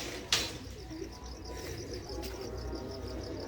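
Shah akhi pigeons coo in a loft, low rolling calls repeating steadily at close range, with a faint high chirping pattern above and a sharp knock near the start.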